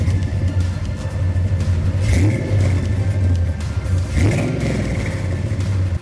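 A G-body El Camino with an LS swap idles with a deep, lumpy rumble through Speed Engineering true 3-inch exit headers, two quick throttle blips rising and falling around the second and fourth seconds.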